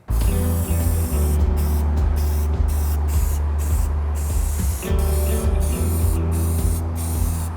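Aerosol spray can hissing in a steady continuous stream over 3D printed Zero mask parts, with a few brief pauses between bursts and a low constant hum underneath.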